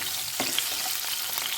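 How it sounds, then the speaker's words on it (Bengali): Potato pieces sizzle loudly in hot oil while being stirred for a Bengali foli fish curry, a dense, even frying hiss with a few soft scraping knocks, close and uninterrupted. "আলুটাকে দিয়ে একটু ভালো করে নাড়াচাড়া করে ভেজে নেব"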